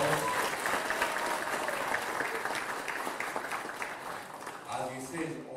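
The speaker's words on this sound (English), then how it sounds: "Can we give him a loud applause?" Loud applause from a crowd greeting a Kenyan dignitary at an event on a UK tour, dense steady clapping sustained throughout and tapering slightly near the end, with voices mixed in.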